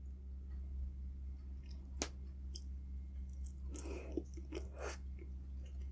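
Close, soft chewing of a pig's blood dish served with an egg, a few crunchy bites and wet squishy mouth sounds over a steady low hum, with no talking.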